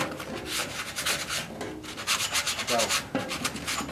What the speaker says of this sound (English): a sanding block to get rid of the majority of this surface rust